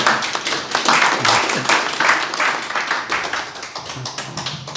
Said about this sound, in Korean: 박사님을 박수로 환영하겠습니다